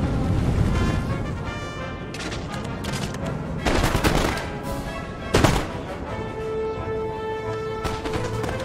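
Dense battlefield gunfire in the strategy game Empire: Total War, continuous musket volleys and crackling shots under a steady din, with a few louder bangs standing out.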